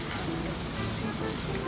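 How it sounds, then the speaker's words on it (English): Onions and garlic sautéing in hot oil in a pan, a dense steady sizzle with a broad hiss, close and continuous, with faint background sound underneath. "I saute the onions and garlic"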